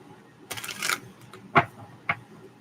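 Tarot cards are shuffled up close, a short riffling burst followed by two crisp taps as the deck is squared, in a quiet room.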